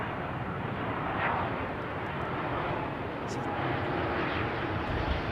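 Jet airliner at London Heathrow Airport, a loud, continuous broadband engine roar that holds steady throughout, heard outdoors without any nearby voices.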